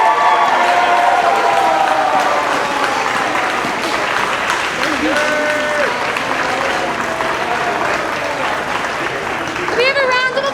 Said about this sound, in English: We have a round of applause for all of our seniors in the choral program.